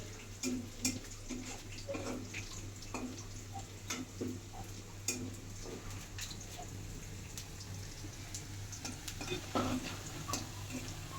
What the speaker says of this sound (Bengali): রসুন পেঁয়াজ ভাজি করে নিব